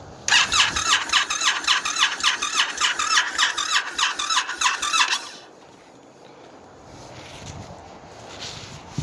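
A new Indian FTR motorcycle cranks repeatedly in the cold without firing, a loud rhythmic whirring starter squeal pulsing about twice a second for five seconds, then cutting off to quiet ambience with faint handling noises.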